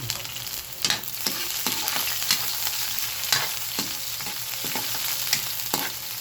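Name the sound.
ground meat sautéed with garlic and onion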